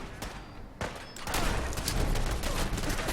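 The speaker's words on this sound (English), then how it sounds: "The bullets are hitting the wall." Bullets hit a wall during a gunfight against raiders in Fallout 4, a rapid, loud crackle of impacts and shots that starts after a brief quieter moment and then runs on densely.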